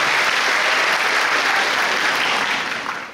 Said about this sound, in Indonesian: Please give yourself a big hand. Oke, tepuk tanganlah dan semangatilah diri teman-teman.